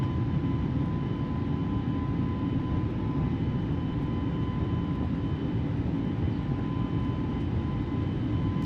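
Airliner engines during the takeoff roll in Microsoft Flight Simulator, a loud steady roar with deep rumble and a faint whine, holding constant with no voices.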